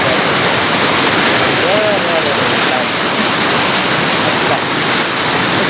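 The Marsang river rushes over the top of a bridge in a loud, constant roar of flowing water that fills the whole clip.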